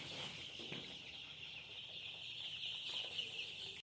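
Four-day-old chicken chicks, freshly given a Ranikhet vaccine, keep up a faint, continuous high peeping chorus from a little distance, steady throughout with no talking.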